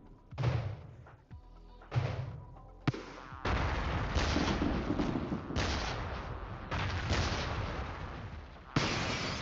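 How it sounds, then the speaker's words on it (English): Heavy artillery volley in the REDCON strategy game: a string of booming blasts, some alone and some overlapping into a long rumbling barrage, loud and close, with a fresh sharp boom at the end. "That was a nice volley of heavy artillery."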